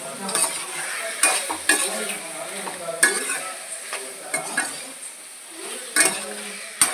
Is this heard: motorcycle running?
no